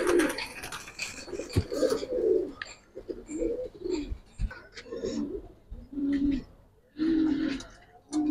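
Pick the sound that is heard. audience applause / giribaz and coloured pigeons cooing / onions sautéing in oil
giribaz and coloured pigeons cooing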